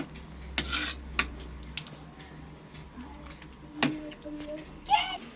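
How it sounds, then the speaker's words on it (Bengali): A metal spoon scrapes and clinks against a pot as vegetables and spices for a vegetarian cabbage khichuri are stirred, giving a few sharp, scattered knocks over a low, muffled background. "মশলাটা দিয়ে ভালো করে এটা নেড়ে নেব"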